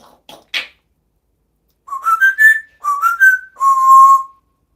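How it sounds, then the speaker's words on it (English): A parrot whistling nearby: a few short chirps, then three loud, clear rising whistled phrases in quick succession, the last one long and steady, with silence between. "You gonna whistle to Gracie?"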